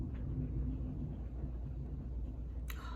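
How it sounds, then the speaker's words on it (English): Low thunder from a passing thunderstorm rumbles on for several seconds, a deep continuous roll heard from a distance at moderate level, ending in a brief sharp click. "That thunder sounds so cool."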